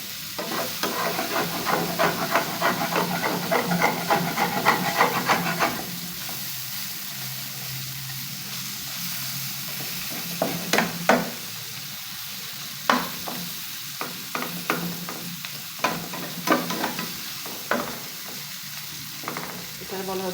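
Taro stolons (kochur loti) frying in a pan give a steady crackling sizzle, with busy stirring and scraping for the first few seconds, then a quieter sizzle broken by occasional sharp clinks of a utensil.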